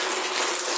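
Heavy rain mixed with hail pours down at night in a steady, dense roar that holds constant throughout, with no voices over it.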